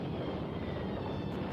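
A dense, continuous roar of many WWII fighter and bomber planes in a large air attack on enemy strongpoints during the Italian campaign, a broad engine drone with no breaks and no speech.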